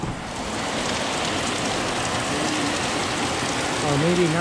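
Heavy rain pours steadily at a house under renovation, a dense broadband hiss throughout with a faint voice-like tone near the end.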